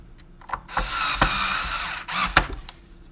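A power driver runs screws into a Technics 1200 turntable: two loud, whirring bursts, a long one of over a second and a shorter one, separated by clicks and light handling noise, with no talking.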